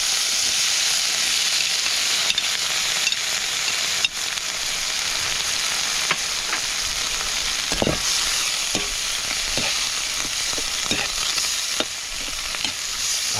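Tomatoes fry in a pan for a Filipino fish dish, kinamatisan na isda, giving a loud continuous sizzle and hiss, with occasional sharp scrapes and clinks of stirring.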